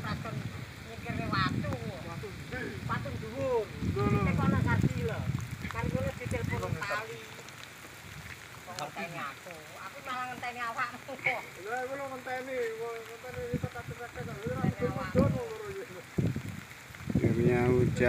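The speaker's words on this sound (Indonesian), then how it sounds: "hujan yang ditunggu-tunggu akhirnya datang" Rain falls after a long dry season, a soft, continuous hiss running beneath excited talking voices throughout.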